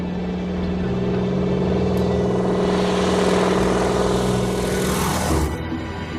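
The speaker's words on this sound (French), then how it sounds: "un antique hauteur à moteur en étoile décolle" An antique radial-engine airplane takes off in Alaska's Chitina Valley, its loud droning engine roar building steadily, then sweeping past and fading at the end.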